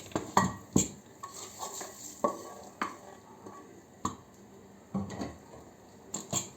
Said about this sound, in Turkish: Bunu da şöyle karıştırayım.